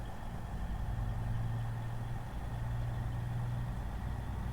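Class 180 Coradia diesel train engine revving in a video game, a steady low rumbling drone with a rising throttle hum, continuous and close with no talking.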